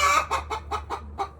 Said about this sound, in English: There is a hen there that's fussing.